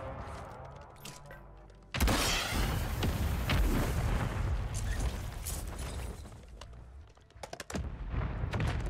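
Gunfire in a PS5 shooter video game: a sudden loud burst of rapid shots and blasts that rattles on for several seconds, then breaks into a few sharp final cracks.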